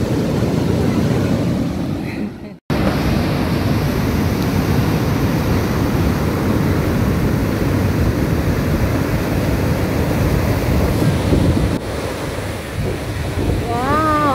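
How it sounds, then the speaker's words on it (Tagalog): Continuous roaring surf with heavy wind buffeting the microphone, a brief dropout early on, then a steady churning wash of waves close by. "Oh, waves, waves, waves, waves."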